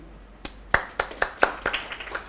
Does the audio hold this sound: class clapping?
yes